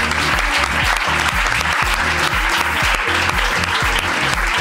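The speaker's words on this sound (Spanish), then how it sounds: "un aplauso para Beñat" A live audience at a comedy podcast recording claps loudly and continuously, a dense, close burst of applause that fills the room for several seconds.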